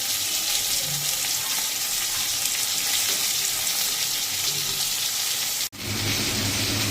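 Food fries in a pan for a light chara fish curry, making a steady, dense close-up sizzle that runs unbroken except for one brief dropout near the end.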